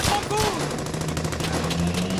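Suppressive gunfire crackles in the Brothers in Arms: Hell's Highway video game, rapid overlapping rifle and machine-gun bursts forming a steady loud fusillade, with faint game voices underneath.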